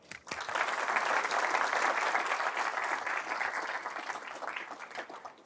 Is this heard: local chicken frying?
no